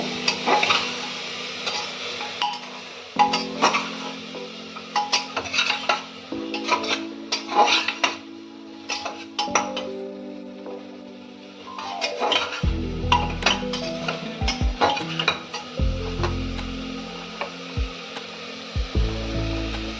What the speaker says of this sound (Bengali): তারপরে ব্রোকলিগুলোকে আমরা চিকেনটার মধ্যে দিয়ে দিলাম। একটু ভালো করে নাড়াচাড়া করে নেব।